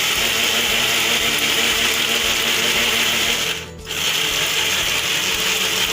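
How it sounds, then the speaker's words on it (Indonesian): A spice blender grinds chili paste for a rica-rica cooking dish with a loud, continuous whirring and rattling drone that briefly dips in the middle, then resumes. "Ini blender khusus bumbu ya sayang."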